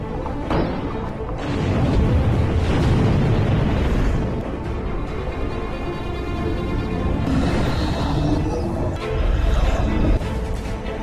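A torpedo strike in a submarine film erupts as a deep rumbling explosion, swelling into heavy booms and rolling thuds that carry on for several seconds.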